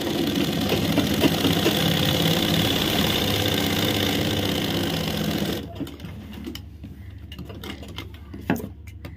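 An electric sewing machine stitches underwear fabric, running as a loud, steady, close mechanical whir, then stops abruptly, leaving quieter handling clicks and faint rustles.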